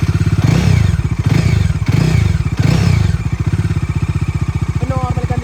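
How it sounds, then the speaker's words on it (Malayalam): A second-hand motorbike engine runs close and loud, a fast, steady putter that swells in a few brief revs before settling into an even beat. "ജസ്റ്റ് എഞ്ചിൻ ഒന്ന് സ്റ്റാർട്ട് ചെയ്യുന്നുണ്ട്"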